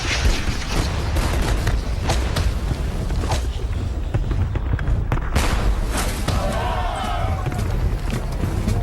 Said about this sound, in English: As the Old Guard march toward the ridge, they get a taste of British artillery